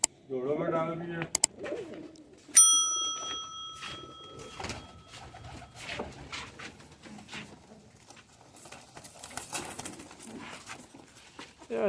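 Pigeon cooing from a rooftop loft in the opening seconds, soft repeated low coos, followed by a bright whistle-like tone and scattered clatter, with people talking through the rest.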